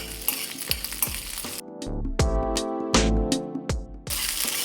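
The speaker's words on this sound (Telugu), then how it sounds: "కొంచెము ఇది పచ్చిదనం పోయేంత వరకు కాస్త ఆనియన్స్ని కొంచెం వేపుకున్నాము" Onions fry in a pan for mutton head curry gravy, with a steady sizzle broken by repeated spatula stirs and scrapes, quieter for a stretch midway before the full hiss returns.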